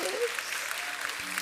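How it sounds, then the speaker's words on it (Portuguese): Church congregation applauding a preacher during a Portuguese-language sermon, a steady wash of clapping filling the room for a short burst with some voice mixed in. "Vamos aplaudir ao Senhor Jesus."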